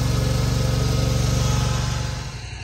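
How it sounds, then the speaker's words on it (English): An old Ransomes greens mower cutting golf course greens in early spring with some snow still around, a steady, loud, close engine drone with a constant whine that eases slightly at the end. "what I'm doing today is mowing most of these greens"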